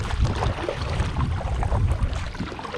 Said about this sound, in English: now I'm rowing across basically the entire lake